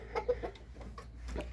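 Rooster clucking among a flock kept in a hobby bird enclosure, several short soft clucks in quick succession at close range, fairly quiet, with no talking over them.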